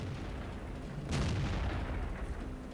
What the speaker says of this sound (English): I think that is the first shot I've fired this game where the shell hasn't gone exactly where I aimed it